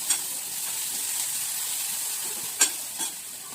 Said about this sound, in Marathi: ते छान परतवून घेऊया